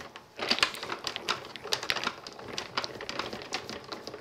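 A die-cutting machine cranks a card and die through its rollers, giving a steady run of fast clicking, ratcheting ticks at close range with no talking.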